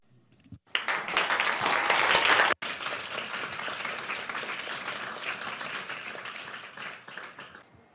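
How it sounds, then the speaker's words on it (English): Audience applause at a panel event, a dense burst that starts abruptly, cuts off sharply, then resumes as steady clapping and slowly thins toward the end. "I would like you all to applaud now"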